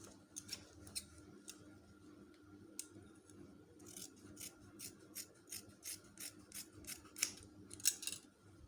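Scissors snip through fabric while a kimono robe is cut out, giving short, crisp repeated cuts, a few scattered at first and then a quick rhythmic run of snips, close and quiet.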